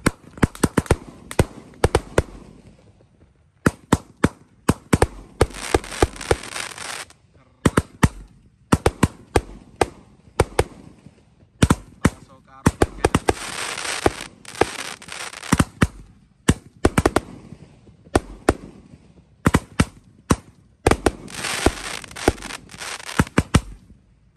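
A 1.2-size Basoka Roman candle firework fires at night during Ramadan, loud sharp pops and crackling bursts coming in rapid clusters separated by short pauses, close and strong throughout.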